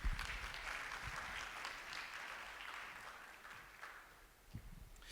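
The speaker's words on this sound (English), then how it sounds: "we can welcome her with a warm round of applause" An audience at a conference fire chat session claps in welcome as a moderator comes to the stage, a steady, moderately quiet round of applause that holds for several seconds and fades slightly toward the end.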